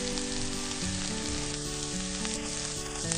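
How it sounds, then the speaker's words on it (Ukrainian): Steady, loud sizzling of onions and carrots frying in hot oil, crackling continuously throughout. "плескаємо трішки олії і відправляємо туди цибульку. Смажимо до м'якості."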